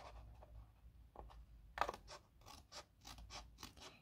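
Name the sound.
cutting out a small paper word for a craft pouch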